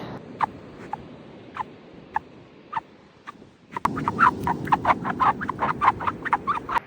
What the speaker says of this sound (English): The squeaking sands. Who called them singing?